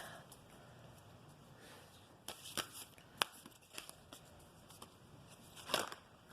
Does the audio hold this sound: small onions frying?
no